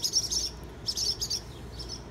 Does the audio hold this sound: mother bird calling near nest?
yes